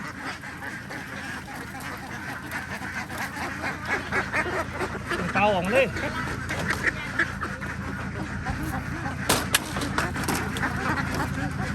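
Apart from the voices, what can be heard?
ducks quacking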